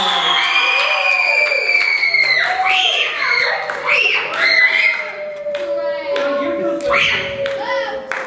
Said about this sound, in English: So give Richie a big round of applause.